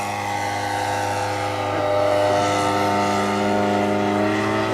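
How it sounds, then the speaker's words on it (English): A radio-controlled model Fokker Dr.1 triplane takes off at an air show, its small engine holding a steady buzzing drone that swells slightly in loudness partway through, with no talk. "And here goes our second DR1 into the air."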